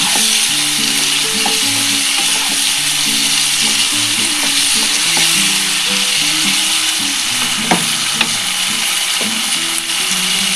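Paneer sautéing in a pan for chilli paneer, a steady close sizzle and fry hiss throughout with occasional clicks and scrapes of stirring, no talking.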